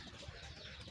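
Fancy foreign pigeons in a backyard coop give a brief, soft coo with a faint rustle, heard alone for under a second.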